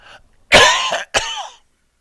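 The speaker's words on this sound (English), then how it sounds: "I got a cough." An elderly man coughs twice close to the microphone, a long rasping cough followed by a shorter second one, then silence.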